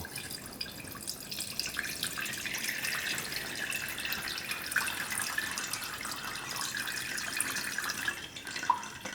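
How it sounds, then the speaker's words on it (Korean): Water poured into a Delter Coffee Press, a steady close hiss and splash of running liquid that holds at an even level throughout with no voices. "만약에 이쪽에다가 이제 물을 좀 부어 보면"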